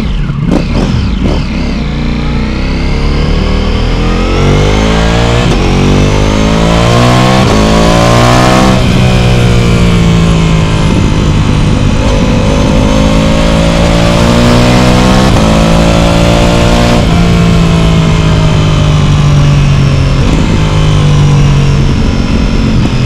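Ducati Pikes Peak motorcycle with an Akrapovic full titanium exhaust, revved hard and held at high revs, rising and falling in long sweeps, with a loud, rumbling engine note close to the microphone throughout.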